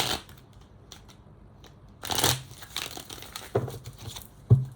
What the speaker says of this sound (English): Because I feel like I need to shuffle it just a little more.